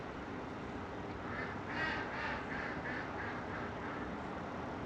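A group of ducks quacks in a quick, clustered run of calls at moderate distance, fairly clear over a soft outdoor hiss in a winter setting, with no talking.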